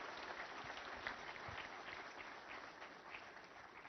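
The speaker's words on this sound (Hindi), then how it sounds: "एक बार जोरदार तालियां हो जाइए इनके स्वागत के लिए।" A seminar audience in New Delhi applauds to welcome the students, steady dense clapping throughout at moderate distance, no voices over it.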